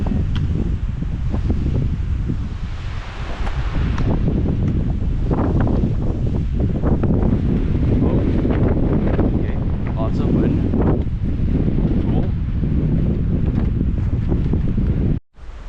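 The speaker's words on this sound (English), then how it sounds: "Lots of wind right now." Strong gusting wind buffeting the microphone on an exposed mountain trail near Mount Merritt, a loud continuous roar with rumbling surges, and no clear voices.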